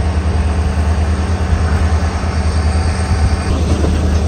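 A diesel locomotive hauls the Tirupati to Vasco da Gama express with a loud, steady low rumble and engine drone throughout, close by and continuous, with no distinct horn blast standing out.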